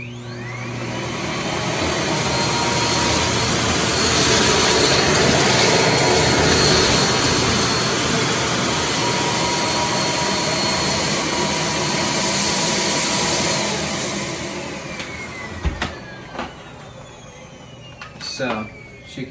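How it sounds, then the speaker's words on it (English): A Miele S7 S7280 bagged upright vacuum cleaner runs at maximum suction on a hard floor. Its loud, steady motor roar carries on for most of the time, then drops away, leaving clattering bits at the end. "So I'll have it set to hard floor, and I'll be using smooth, which is maximum suction"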